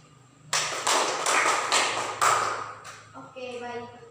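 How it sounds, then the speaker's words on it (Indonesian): Students in a classroom break into applause, a dense burst of clapping that lasts a couple of seconds before fading, followed by a teacher's voice. "kita beri aplaus dulu"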